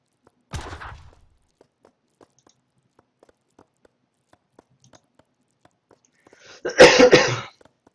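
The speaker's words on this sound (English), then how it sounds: "I really apologize for the coughing as well." A person coughing, two separate bursts spaced apart by quiet: a short sharp cough first, then a louder, longer rough coughing fit near the end, close to the microphone.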